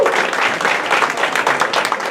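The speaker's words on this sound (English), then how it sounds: "give a round of applause for them" Audience at a stand-up comedy contest applauding: dense, steady clapping from a crowd, fairly loud and close, sustained for about two seconds with no speech on top.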